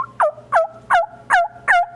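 A human voice imitates a turkey hen calling to a gobbler, giving five evenly spaced, sharp yelping notes that break downward in pitch, loud and close with no other sound.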